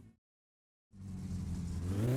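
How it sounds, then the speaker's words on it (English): A car engine in My Summer Car cuts out briefly, then starts and revs, its tone climbing steadily and growing louder; no speech. "I'm just going to rev up the engine a bit"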